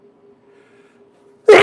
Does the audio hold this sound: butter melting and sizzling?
no